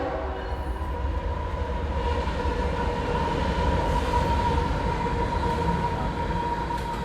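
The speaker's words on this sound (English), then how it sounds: "Here comes the train" A train rolls steadily past nearby in Bell Buckle, a continuous rumbling roar with a sustained tonal hum, loud and unbroken for the whole stretch.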